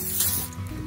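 Cooking spray hisses briefly from an aerosol can onto a stick beside a campfire, a short close spurt fading within half a second under a low background rumble.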